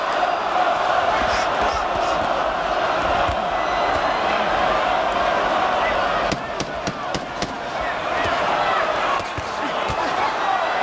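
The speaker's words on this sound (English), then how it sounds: "And pretty mixed reaction from the crowd." A boxing crowd in the Chris Byrd vs Andrew Golota heavyweight bout roars in a steady, dense wash of noise, with sharp impacts and surges of cheering and shouting running throughout under faint commentary.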